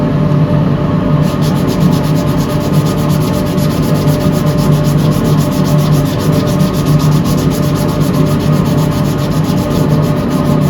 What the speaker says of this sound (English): Right, all sanded,